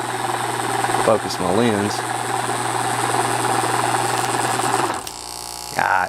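An open-source AC magnet motor running with an arcing spark gap: a steady mechanical hum and buzz with electrical whine, near and fairly loud, then dropping in level toward the end, with someone talking briefly over it.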